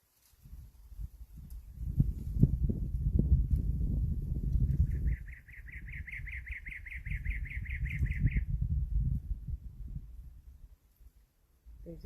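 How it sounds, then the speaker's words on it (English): A songbird perched at the top of a tree sings a rapid trilled phrase of repeated high notes, heard clearly above louder outdoor voices and low rumble of people chatting nearby. "There's a bird that likes to go on the top of a tree and sing."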